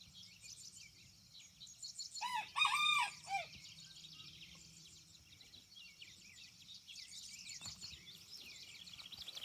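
A large rooster crows once, a clear crow near the start that rises over a garden backdrop with chirping birds.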